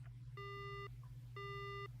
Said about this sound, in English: The phone goes dead.